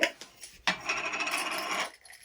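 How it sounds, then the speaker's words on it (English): Quilting clips handled at close range: a few sharp plastic clicks, then a steady rustling, rubbing clatter for over a second before it stops. "Quilting clips."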